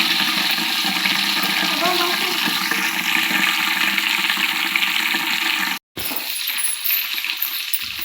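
Ghee sizzling hard in a pan as a leaf is dropped in, a loud, dense crackle and hiss close by that cuts out abruptly and returns weaker, with a voice talking over it.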